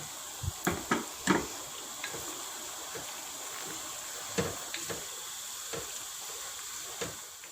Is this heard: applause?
no